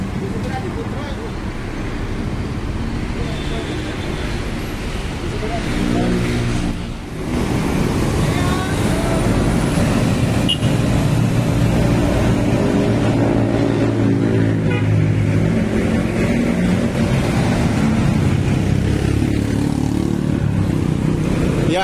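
Adi Putro coach buses departing at night for the GIIAS 2024 exhibition, heavy engines running and passing close by in a loud, continuous roar with road noise, a brief dip midway before the rumble swells again.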